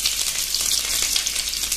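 Onions tipped into hot oil in a pan for a drumstick (sajan) vegetable curry, frying with a loud, steady, hissing sizzle close up and no voices.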